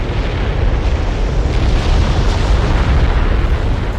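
Explosive volcanic eruption from very sticky magma, a continuous loud, deep roar with heavy low rumble and steady blasting noise throughout, no one speaking.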